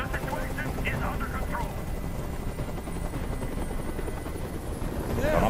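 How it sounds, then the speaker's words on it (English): Helicopter in the video game Detroit: Become Human, a steady loud rotor drone filling the whole stretch beneath a tense scene, with brief voices breaking in over it. "I can't stand that noise anymore! Tell that helicopter to get out of here!"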